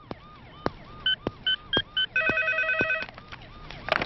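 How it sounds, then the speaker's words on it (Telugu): In an office, a telephone rings with a series of clear, repeated electronic ring tones, loud and close, with no voices over them. "సార్, మీకు ఫోన్."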